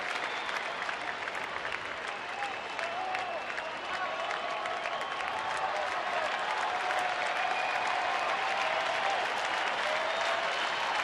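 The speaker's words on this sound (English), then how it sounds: "Crowd starting to get behind Cole Hamels and the Rangers." A baseball stadium crowd at a Tigers at Rangers game cheers and claps for Rangers pitcher Cole Hamels, a dense sustained roar of applause that swells slightly, with faint voices mixed in.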